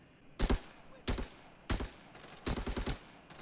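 Gunfire in the shooter game Arena Breakout comes in four rapid automatic bursts separated by short pauses. The shots are loud and sharp, and the last burst is the longest.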